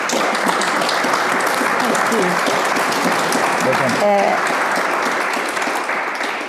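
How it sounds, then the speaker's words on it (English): Sustained audience applause for a panel, dense and steady throughout, with a brief voice or cheer rising partway through before the clapping continues and slowly fades. "Could I please have a big applause to my fantastic panel here?"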